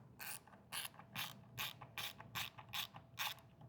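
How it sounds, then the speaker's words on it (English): Screws are driven into the bottom of a Ghost trolling motor skirt while the Lowrance Ghost X indicator upgrade is installed, producing about nine quick ratcheting clicks in a steady rhythm, close and quiet, with no talking. "Then put your 2 screws in the bottom."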